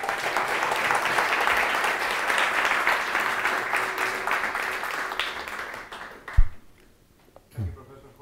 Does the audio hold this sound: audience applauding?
yes